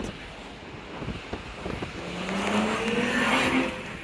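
An Audi overtakes on the left turn lane, heard from inside a moving car as a steady road and engine rumble that builds and swells over a few seconds.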